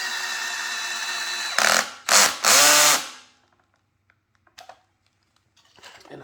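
A power drill whirs in short bursts as it drives a screw into a wooden console table, revving up and winding down, followed by a few light clicks and taps.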